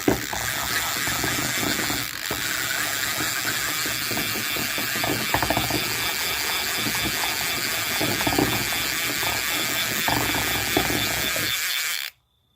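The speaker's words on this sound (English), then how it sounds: "flip that switch back up and start reeling in" A 1963 Pflueger Skilkast fishing reel winds in line with a steady, continuous ratcheting clatter of pawl and gears, close and loud, running unbroken for about twelve seconds before stopping abruptly.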